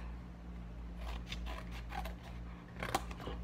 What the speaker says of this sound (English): So we're going to cut